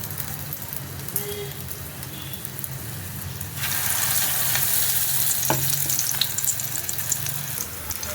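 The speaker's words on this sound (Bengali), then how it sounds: "তেলটা গরম হয়ে গেছে, এখন আমি এই রুটিটা নিয়ে এর মধ্যে চুবিয়ে চাটুতে দিয়ে দেবো।" Bread dipped in batter sizzles in hot oil on a griddle, a steady frying hiss that grows louder and brighter partway through, with faint clinks and no talk.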